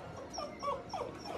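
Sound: puppies whimpering

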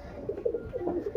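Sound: pigeon cooing

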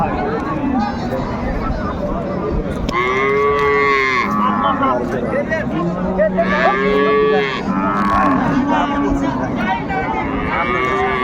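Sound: cow mooing

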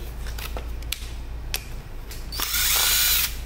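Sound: Makita DTD156 cordless impact driver running

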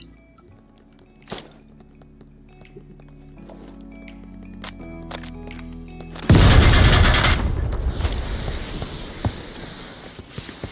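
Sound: grenade explosion and gunfire in VR game Onward

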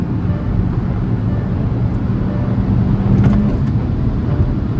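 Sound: Škoda Slavia and Hyundai Verna cars in a drag race

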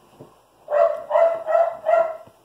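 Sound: dog barking

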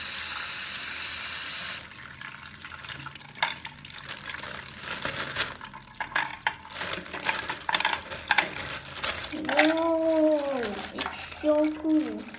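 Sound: filling a container with holes with water

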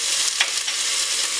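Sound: mutton frying with ginger garlic paste and chili paste

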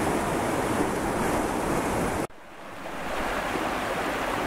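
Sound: stream in spate flowing in rapids

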